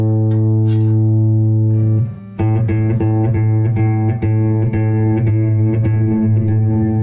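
A guitar runs through a DigiTech Polara stereo reverb pedal as its level is turned up. A sustained chord is followed by repeated strummed chords with a growing reverb wash, and nobody talks.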